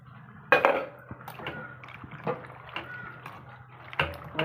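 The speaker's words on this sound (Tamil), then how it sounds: "தேவையான அளவு தண்ணி ஊற்றிக்குங்க" Water poured into a pot of sambar, with intermittent splashing and sloshing in several short bursts, and faint clinks of the pot over quiet kitchen background.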